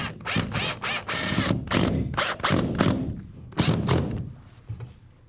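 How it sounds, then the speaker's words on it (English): Toggle bolts securing a heavy-duty wall bracket are tightened with a power tool, giving bursts of whirring and ratcheting broken by short pauses and dull thunks, close and fairly loud. "All we have to do now is tighten up those bolts."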